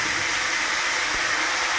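Ginger, chili, tomato and cumin powder frying in hot oil in a wok, a loud, dense, steady sizzling hiss filling the short span without a break.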